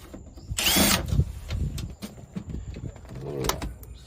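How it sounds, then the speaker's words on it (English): A 1990 Mazda Miata getting screws removed by a power driver to reach the fuel pump, a couple of short buzzing whirs close by with quiet clatter and handling noise around them. "Pop off all these screws."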